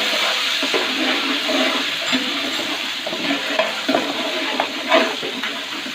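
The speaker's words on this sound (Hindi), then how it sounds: "इसमें हमने 4 चम्मच जो है लहसुन पेस्ट डाल दिए।" Garlic paste, four spoonfuls, stirred into light-brown onions frying in a pan for a large chicken karahi; a steady sizzle with soft scraping stir sounds runs throughout, fairly close, with no talk.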